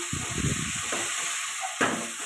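Dal fries in a pan with dried red chili and chopped raw onion, giving a bright continuous sizzle broken by scraping stirs, then a sharp surge of hissing near the end.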